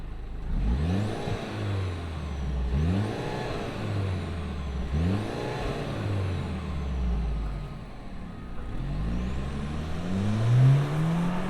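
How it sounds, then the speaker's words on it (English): A 2025 Mercedes-Benz GLE 350 four-cylinder turbo engine cranks and revs in repeated low, rising surges through a fake exhaust, steady and fairly loud, with no voices. "let's fire this up and hear if it makes any sound out the fake exhaust."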